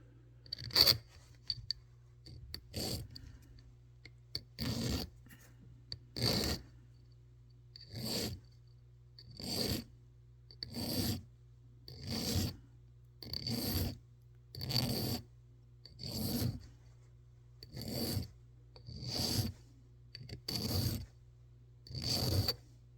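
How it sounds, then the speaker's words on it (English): Ends of new fret wire on a Les Paul electric guitar being ground down, heard as a steady series of about fifteen short, evenly spaced rasping passes over a low constant hum, with no talking. "I'm going to go grind the ends off this one"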